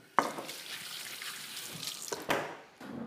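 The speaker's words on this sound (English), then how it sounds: "Right, let's wash my hands." Water runs from a kitchen tap while hands are washed, a soft, steady splashing rush with brief knocks at the start and near the end.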